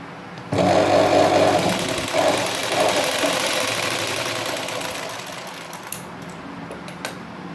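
A sewing machine stitches the katori joint of a blouse, a steady mechanical whirring close by that starts abruptly, then fades and slows over several seconds, ending with a few small clicks.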